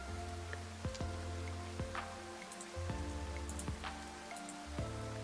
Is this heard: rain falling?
yes